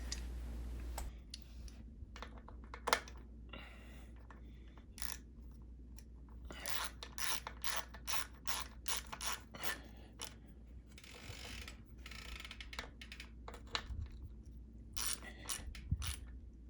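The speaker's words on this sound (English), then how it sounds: "Once the dust cap is on, I can torque down the crank arm bolts." A bicycle ratchet clicks in quick bursts while the crank arm bolts are torqued down, the faint, close ticking stopping and starting in irregular runs over a low steady hum.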